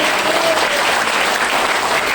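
Audience applause at a speech by Mahaveer Saharan: a steady, dense wash of many hands clapping together, loud and continuous throughout.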